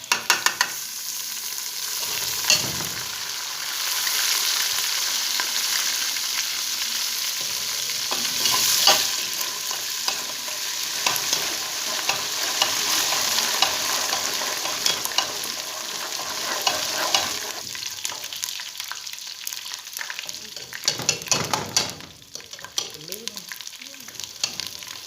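Ginger frying in hot oil for a kaddu gosht curry gives a steady, bright sizzle, with a spoon scraping and stirring against the pan in irregular strokes, close up and continuous throughout.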